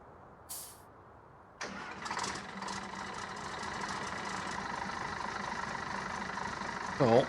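A semi-truck engine catches after a brief high whine and settles into a steady, rumbling idle that runs several seconds, moderately close outdoors beside a trailer carrying a tractor.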